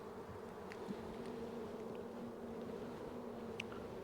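A steady, dense buzzing of many honey bees at an open hive full of brood and honey, close and continuous, with no voices.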